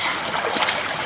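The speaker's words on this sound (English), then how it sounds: "Just wash that top layer of gravel in." Gravel is swished and washed in a rainforest creek in northeast Tasmania while prospecting for sapphires, a brief close burst of sloshing, gritty water noise with no voices.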